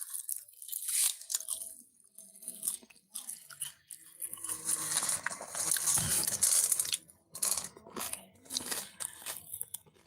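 Jhalmuri, a spicy puffed rice snack, eaten close up with loud, irregular crunchy bites and wet chewing that keep going for several seconds, with no voices.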